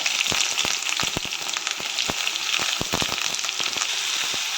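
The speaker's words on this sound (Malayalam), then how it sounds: "സവോള ആഡ് ചെയ്തിട്ടുണ്ട്" Chopped onion fries in hot oil with curry leaves, a close, steady sizzle peppered with frequent sharp pops and crackles, no voices.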